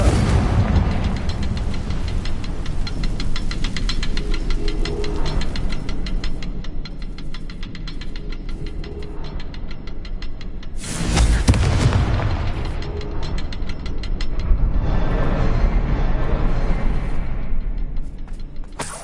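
Confringo spell blasts in Hogwarts Legacy land as loud booming explosions, one heavy burst near the middle standing out above a constant dense wash of game sound with mechanical clanks and rumble throughout.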